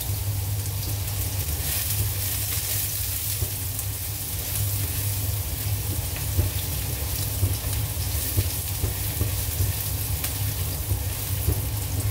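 Garlic frying in oil for luncheon meat fried rice, a steady close hiss and crackle of sizzling with faint pops, continuous throughout.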